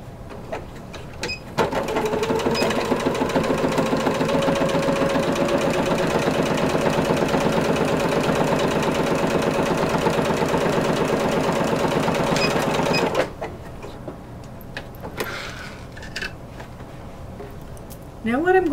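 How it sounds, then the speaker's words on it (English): A sewing machine runs steadily for about eleven seconds, stitching a 5/8-inch seam ahead of attaching bias tape for corset bone casings, with a dense mechanical whir that stops abruptly, followed by quieter handling sounds. "So again, I'm stitching at 5/8."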